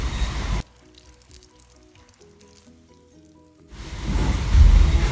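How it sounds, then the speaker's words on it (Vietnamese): Bubble bread dough fries in hot oil with a close, hissing sizzle that is heard at the start, drops away to soft tonal background sounds, then returns stronger. "Chiên lần lượt cho đến hết bột."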